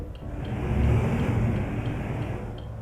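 A truck engine in Euro Truck Simulator 2 drones steadily and loudly, a low rumbling hum that rises slightly in the middle and then settles, heard alone without any talking.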